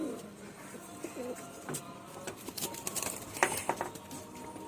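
A male Chennai pigeon coos softly, with low throaty calls early on. Light clicks, rustles and patters from the loft sit around the faint cooing.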